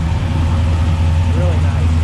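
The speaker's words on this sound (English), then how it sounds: "A Z28 pulling in. Now this sounds nice." A Chevrolet Camaro Z28 rolls into a car show with a deep, steady engine rumble and a strong low idle burble, heard close and continuous while voices talk nearby.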